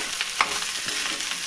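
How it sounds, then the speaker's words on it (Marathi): Onion tempering in hot oil in a kadhai for khichdi, a steady soft sizzle with light stirring scrapes throughout, fairly quiet and with no voices. "तेल टाकून कढईमध्ये कांदा वगैरे टाकून ही फोडणी देऊन दिली."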